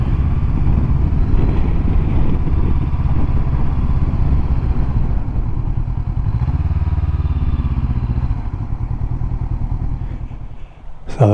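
A motorcycle rides in close to the microphone near Kingston upon Hull, its engine a steady, loud droning rumble under wind buffeting, easing slightly near the end.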